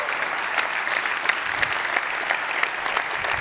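Steady audience applause following a business seminar talk, many hands clapping densely and evenly at moderate volume throughout, with no voices over it.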